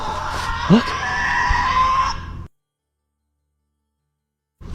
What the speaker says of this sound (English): chilling, inhuman screams echo through the air